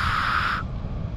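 The gas burner of a hot air balloon fires over a vineyard with a loud, close roaring hiss that cuts off abruptly partway through, leaving quieter outdoor background.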